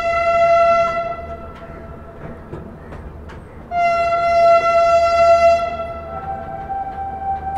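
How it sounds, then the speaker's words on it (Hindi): The Bhopal Shatabdi train passes on the opposite track, sounding two long, loud horn blasts with a brief gap between them over a constant rolling rail rumble. "भोपाल शताब्दी जा रही है अपोजिट साइड से"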